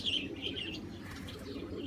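Caged pigeons coo and chirp in low, repeated murmurs, close by, with a light flutter of wings and a constant background rumble.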